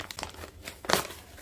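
A food delivery bag holding fries and sandwich packets is opened, giving close crinkly plastic crumpling and rustling with a louder tearing crunch toward the end.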